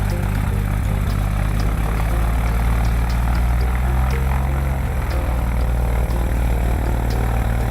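A small airplane engine running steadily at Centennial Airport before takeoff, a loud, continuous, droning rumble inside the aircraft that holds level throughout without pause.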